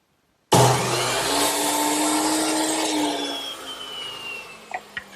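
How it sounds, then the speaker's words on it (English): A miter saw spins up sharply and slices through wooden rails for a bedside table, a loud close whine and cutting roar lasting a few seconds before winding down, with small clacks afterward. "I'll cut them right here on the miter saw."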